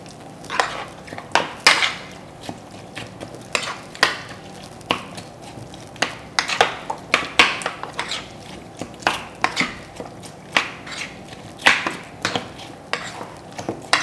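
Utensils mix oatmeal with raisins in a bowl, making a steady run of sharp scraping clicks and taps against the sides, close and fairly quiet, with no talking.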